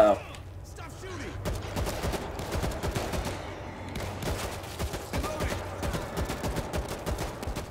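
Rapid, repeated gunshots from an AK rifle in the zombie shooter World War Z, a steady stream of sharp cracks over game ambience and background voices.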